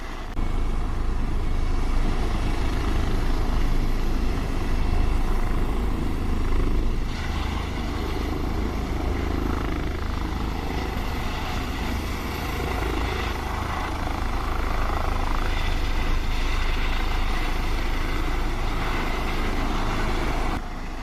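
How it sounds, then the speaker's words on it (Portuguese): A military aircraft or helicopter passes near an American air base in Okinawa, Japan, its loud, steady engine and rotor rumble filling the whole stretch without a break and with no one talking. "Pode ser um avião militar, um helicóptero, né?"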